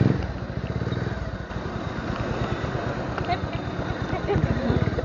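A KTM motorcycle rides on a road in Baguio City, its engine a steady throbbing drone with wind rush, close and continuous for the whole stretch.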